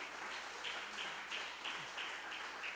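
Church congregation applauding during a devotional service, a steady wash of many hands clapping with no voice over it.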